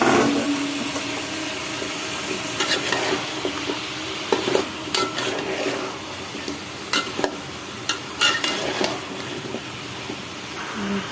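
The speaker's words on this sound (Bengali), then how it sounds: "এখন আমি এই জালি কুমড়োগুলো চিংড়ি মাছের সাথে একটু কষিয়ে নেব" Chopped ash gourd is stir-fried with prawns in a pan, a continuous close sizzle overlaid by repeated scraping and clicking of a spatula that grows busier in the second half.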